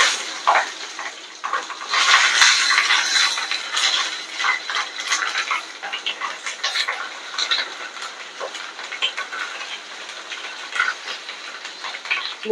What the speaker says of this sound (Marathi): इथे आता मी मिरची टाकून घेणार आहे.